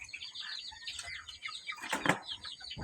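Giribaz and doyashla pigeons flap their wings in a flurry, with a loud burst of beating wings midway and soft coos and chirps from nearby birds around it.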